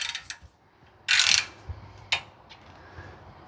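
Ratchet fitted with an 18 mm socket breaking loose a tight bolt on a 2013 Nissan Titan during a wheel bearing job: one loud burst of close clicking, then a single sharp metallic clack and a fainter click.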